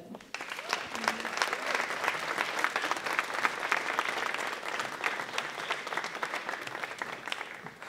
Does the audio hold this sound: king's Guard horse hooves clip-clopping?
no